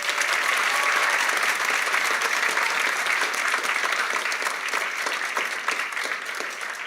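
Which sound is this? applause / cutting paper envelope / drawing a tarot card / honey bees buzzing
applause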